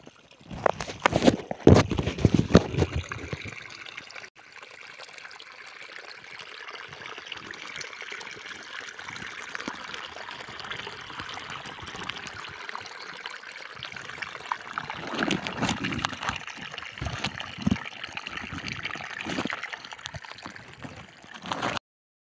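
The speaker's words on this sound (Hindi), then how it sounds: "देखंतु मिनी वाटरफॉल" A small village waterfall runs in a steady broadband wash of flowing water throughout. A few louder knocks and splashes come near the start and again toward the end.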